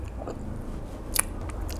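Close-up chewing of takoyaki with fish flakes, quiet soft mastication broken by one sharp crunchy bite midway.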